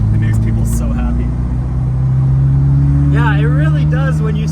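A black Ferrari F40 driving along, its engine a steady loud drone that rises slightly in pitch as it holds speed, with voices talking over it near the end.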